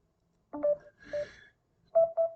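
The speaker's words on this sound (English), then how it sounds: "I want you to hear the notification tone that pops up on my cell phone" A short sequence of quiet electronic cell phone notification tones: a pair of beeps, a brief warbling chirp, then two more clear beeps, with silence between.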